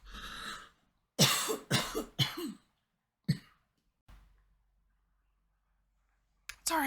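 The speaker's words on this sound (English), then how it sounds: "I was just coughing." A man coughs several times in quick, harsh bursts, close to the microphone, followed by a lone throat-clearing cough and a faint breathy sound after a pause, then a brief noise at the very end.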